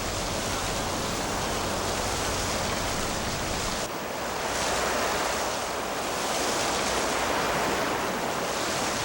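Ocean waves at the Dokdo islets, a loud continuous roar of surf with wind, swelling and easing in broad surges across the clip, with no voices.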